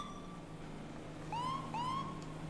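A police siren in the video game GTA 5 gives two quick rising wails late in the clip over a low steady background hum, with no talking.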